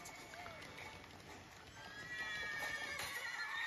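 A horse in The Witcher gives a faint, distant neigh amid a busy game soundscape of steady background noise and scattered hoof and movement sounds.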